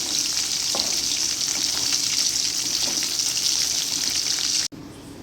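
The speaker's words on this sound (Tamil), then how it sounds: "மீனெல்லாம் பொரித்து எடுத்தாச்சு" Pieces of trevally (paarai) fish fry in hot oil for fish pickle, giving a loud, steady, close sizzle with faint stirring that stops abruptly just before the end.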